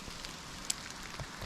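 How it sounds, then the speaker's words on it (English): Sleet or hail-like snow falls on a camping tarp in Cadillac, Michigan, making a steady, faint, grainy patter with one sharp tick partway through. "It's almost like a hail. A hailish snow. And it's coming down Sleet,"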